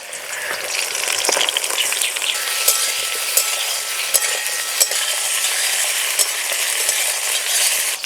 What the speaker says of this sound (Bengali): এই তেলে বেগুন ভেজে নেব।